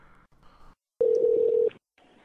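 Telephone keypad tones sound as a caller dials a store after changing the caller ID: short soft beeps, then one loud sustained tone lasting under a second, then quiet.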